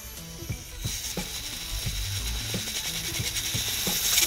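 A hobby robot's gears and ratcheting mechanisms whir and click continuously nearby, with rapid mechanical ticking over a steady motor hum that grows slightly louder.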